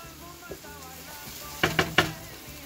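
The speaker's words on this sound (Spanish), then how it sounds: "Seguimos sofriendo el sofrito." Sofrito with fresh garlic frying in a pan, a steady low sizzle with a few sharp clinks of a utensil against the pan near the end.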